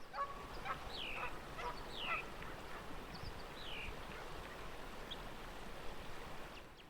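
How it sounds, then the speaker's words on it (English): Geese honking in a visual novel game scene, several upward-swooping calls scattered over a steady noisy ambient bed with low rumbling, no talk. "And the fucking geese are back!"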